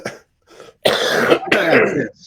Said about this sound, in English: Sorry for coughing into the microphone.